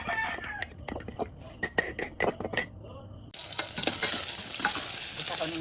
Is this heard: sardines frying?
yes